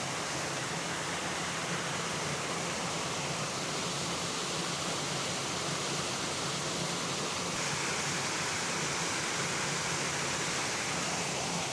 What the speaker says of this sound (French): Je savais bien que j'avais entendu une espèce de cascade.